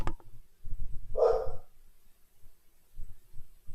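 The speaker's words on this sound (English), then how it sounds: "if you hear a dog, I'm dog sitting" A single dog bark sounds nearby in a quiet indoor room, one sharp burst about a third of the way in, with low background thumps around it.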